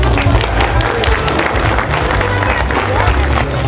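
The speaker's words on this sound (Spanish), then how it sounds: "Bienvenidos, el aplauso." A crowd at a quinceañera party claps steadily and loudly as the guests are welcomed, a dense wash of applause with no letup.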